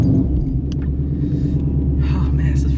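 Supercharged 722hp Ford Mustang GT idling close by with a deep, loud, steady rumble that pulses throughout, with some faint rustling and movement over it in Florida weather.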